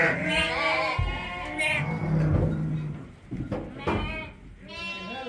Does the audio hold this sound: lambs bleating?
yes